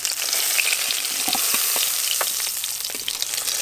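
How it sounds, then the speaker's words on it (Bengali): Potato, eggplant and green banana fry together in oil left from frying fish, a continuous bright sizzle with scattered crackles and pops close by, no talking. "ওই মাছ ভাজার তেলে আমি আলু, বেগুন আর কাঁচকলা একসঙ্গে ভালো করে একটু ভেজে নেব"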